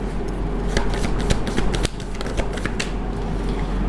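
Tarot cards are shuffled and drawn by hand: a dense stream of crisp, papery riffles and flicks, close up and steady, with one sharper snap partway through.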